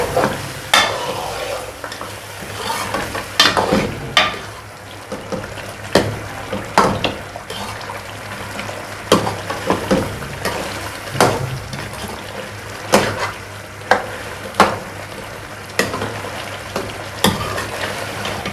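Potatoes being stirred and fried in a pan while making aloo gosht, a steady sizzle broken by repeated sharp scraping clicks of the spoon against the pan, close and fairly loud.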